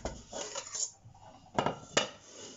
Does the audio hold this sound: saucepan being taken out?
yes